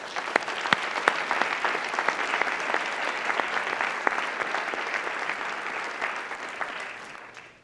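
A faculty and staff convocation audience claps in sustained, even applause that swells, holds steady, then tapers off near the end.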